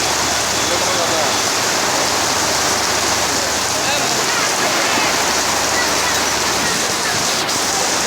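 Heavy rain pours down in a dense, loud, continuous roar that stays steady from start to finish, heard up close during a downpour while driving.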